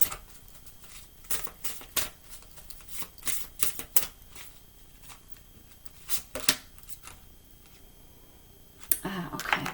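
Tarot cards being shuffled by hand, a run of quick papery riffles and flicks with brief pauses between bursts, close and fairly quiet, ending in a louder rustle.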